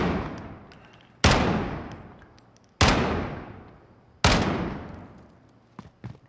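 Gunfire striking wood in Call of Duty Modern Warfare, four sharp, loud impacts spaced about a second and a half apart, each decaying slowly, with a few small clicks near the end and no talk.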